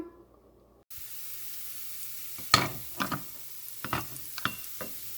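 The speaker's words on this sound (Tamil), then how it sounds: "இப்போ இஞ்சியும் உள்ளியும் வதங்கி கொண்டிருக்குது" After a quiet moment, chopped ginger and garlic sauté in a pan with a light sizzle, punctuated by several sharp spoon scrapes and taps against the pan, close and fairly faint.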